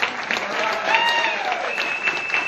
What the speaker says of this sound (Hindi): बजाओ ताली, मजा आया तो